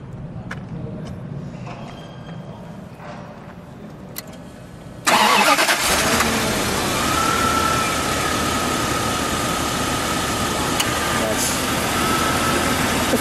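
A 1994 Bentley Continental R is started up, a sudden loud catch after a quiet stretch with faint talk, then a smooth, steady, surprisingly quiet idle with a low hum and a faint whine.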